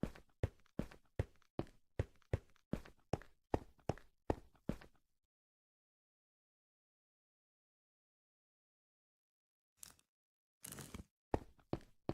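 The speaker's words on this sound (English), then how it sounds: "we're hearing crunching" Minecraft footsteps crunch in a steady quick series of about a dozen close, even steps, then stop for several seconds of silence before a few more crunching steps resume.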